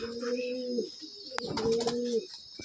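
A pigeon gives two close, drawn-out throaty coos separated by a short pause, loud and clear against a faint background hiss.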